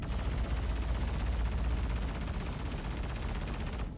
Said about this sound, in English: Probably a big Gatling gun for what it is